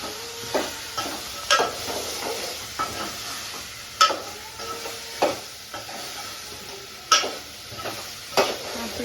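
A spoon scrapes and clinks against a pan at regular intervals, stirring mixed vegetables over a constant frying sizzle, close up and with no voices.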